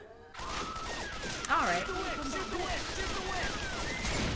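Gunfire crackles in the video game Left 4 Dead 2 as shots ring out over game sounds and a sharp burst lands midway, while a voice speaks briefly near the start.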